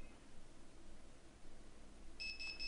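A phone's SMS notification tone sounds as a short, faint electronic chime near the end, over steady background hiss.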